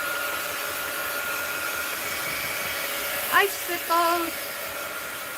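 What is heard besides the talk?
heat gun drying wet mixed media art journal page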